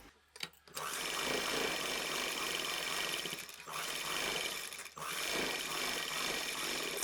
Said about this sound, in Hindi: इस पे हम डबल सिलाई लगाएंगे।